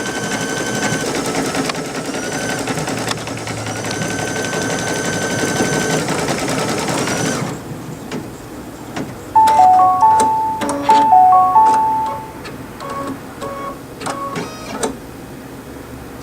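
Brother BP2100 embroidery machine stitching a design, a quiet steady mechanical whir that shifts into a run of sharp rhythmic ticks and clicks from the needle, close by with no talking.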